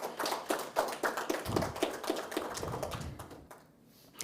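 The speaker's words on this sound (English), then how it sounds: "I think that deserves a round of applause." Scattered hand claps from a small audience at a press conference in St. Kitts. The claps come as a brisk, fairly close patter and thin out toward the end, with no talking over them.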